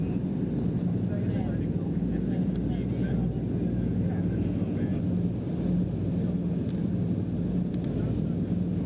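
Lisunov Li-2 vintage airplane in flight, a steady loud piston-engine drone and propeller roar filling the cabin, with faint voices under the noise.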